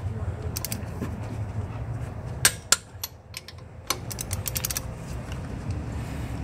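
A torque wrench clicks as it tightens strut bolts in a star pattern while front shocks are changed on a 2004–2008 Ford F150, giving a few sharp, close clicks and ratchet-like ticks over quiet shop background.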